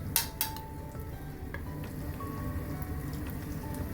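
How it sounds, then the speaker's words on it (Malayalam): Egg balls dropped one by one into hot vegetable oil, two sharp splashes followed by a continuous crackling sizzle, close and steady, without talk. "നമുക്കിനിയും ഈ ഓയിലിലോട്ട് ഈ ഓരോ ബോള് ഇട്ട് കൊടുക്കാം. ഫ്രൈ ചെയ്യാൻ വേണ്ടിയാണ്."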